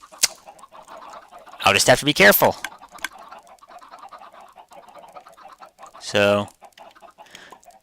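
Chickens in a Minecraft automatic chicken farm give a loud burst of clucking, then a single squawk a few seconds later, while someone talks quietly between the calls.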